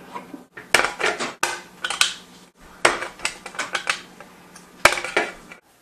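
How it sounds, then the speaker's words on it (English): A hand metal nibbler chewing through sheet metal while cutting an outline for an RV wiring test box, in close, sharp, rapid clicking bursts with short pauses between runs. "it just nibbles a little piece of metal off each time you make the cut"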